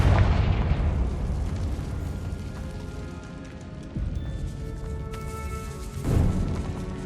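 Confringo blasting spell in the Hogwarts Legacy video game, a heavy booming explosion that rolls and decays, followed by further sharp blasts and rumbling impacts, loud and without speech.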